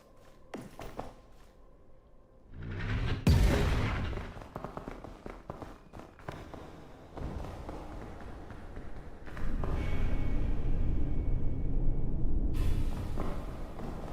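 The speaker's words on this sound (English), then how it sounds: "I think I'm going to start using the cannons." Cannons firing in the climbing video game PEAK: a sharp loud boom at about three seconds, then rumbling thuds and ongoing game noise that swells again later.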